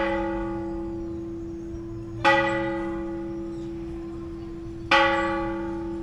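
A temple church bell in a town near Guadalajara rings out with two loud, resonant strikes, each leaving a long humming decay that carries on between the blows.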